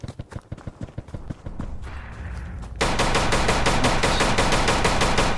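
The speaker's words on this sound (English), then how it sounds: "the gunfire sounded so muffled back there" Rapid bursts of video-game gunfire, first sharp separate shots, then a muffled stretch, then dense fast automatic fire to the end.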